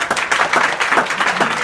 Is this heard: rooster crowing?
no